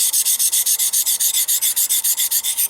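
A well-worn Henckels chef's knife ground on a sharpening stone loaded with 200-grit silicon carbide swarf, a loud rhythmic scraping of quick, even back-and-forth strokes, close and alone.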